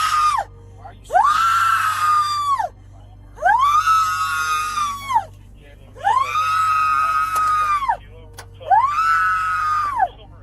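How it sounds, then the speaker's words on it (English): A person screams during a confrontation with a police officer, in five long, loud, sustained bursts separated by short gaps, with a faint steady hum underneath. "Why are you screaming?"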